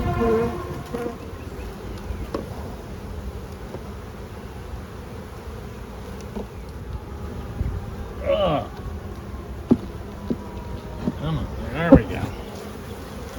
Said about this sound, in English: That's just a worker bee.